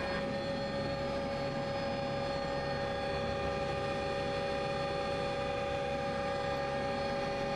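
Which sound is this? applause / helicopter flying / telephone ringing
helicopter flying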